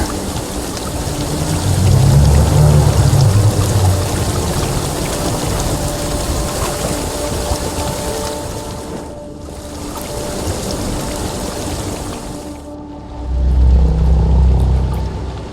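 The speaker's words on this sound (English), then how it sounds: "waterfall flowing upwards. What's going on here?" A waterfall in The Witcher 3 flows upwards, giving a loud, continuous rushing roar with low rumbling swells near the start and end and a brief dip in the middle.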